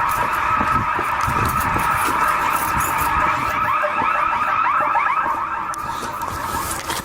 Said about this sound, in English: This is the first time we've ever set off alarms.